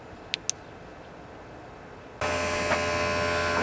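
A smoke machine used to find engine vacuum leaks switches on partway through, giving a steady loud hum and hiss that runs unbroken to the end after a quiet stretch with two small clicks.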